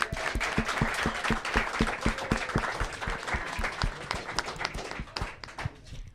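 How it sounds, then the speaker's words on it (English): An audience at a Make-A-Wish fundraising event gives sustained applause, with close, distinct claps rattling rhythmically over a broader crowd clapping. "Let's give them all a round of applause"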